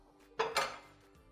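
A non-stick frying pan is picked up and set down on a stovetop, giving two quick close metallic clanks in a row, the second one a little louder.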